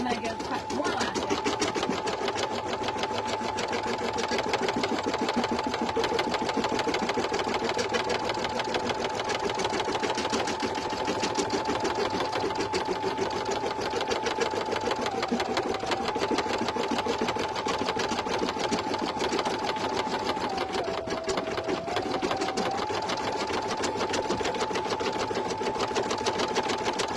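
An embroidery machine stitches satin onto an in-the-hoop sleep mask, a loud, continuous rapid needle chatter with a steady motor hum that briefly dips in pitch and keeps running throughout.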